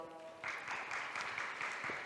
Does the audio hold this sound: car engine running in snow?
no